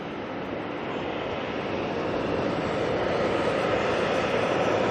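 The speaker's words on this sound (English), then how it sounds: "A little citation Mustang heading on out." A small Cessna Citation Mustang business jet departs Auckland Airport, its engines a broad, steady distant roar that swells slightly over five seconds, heard from outdoors with no talking.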